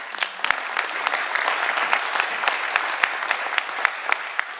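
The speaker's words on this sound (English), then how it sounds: "please give a round of applause to Christine Dean and Mike Maxwell" An audience at a county education safe schools summit applauds two board of education members, steady crowd clapping with individual close, crisp hand claps popping out above the wash.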